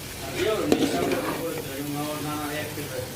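Beef sizzles in a pan with chili and coriander powder while a spoon stirs it, producing a steady crackling fry with scraping strokes and a faint voice in the background.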